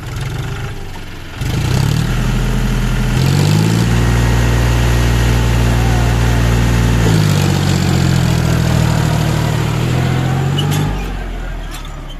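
Tractor engine in a tractor pulling video game, a steady loud drone that revs up and down in several surges, with a voice talking over it.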